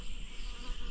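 Cicadas drone at sunset on a riverbank in the Pantanal, a steady high buzzing insect chorus that fills the whole clip at moderate level.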